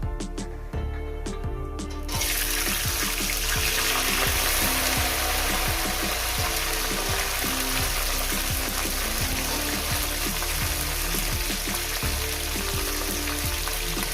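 Yardlong beans (borboti) dropped into hot oil, already holding briefly fried flattened rice, for an aloo borboti posto dish: a sudden loud, dense sizzle that starts after a quiet couple of seconds and then holds steady, with faint crackles and stirring scrapes.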